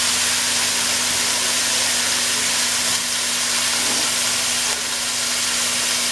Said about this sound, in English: we got this on high because we're trying to get this to sear just a little bit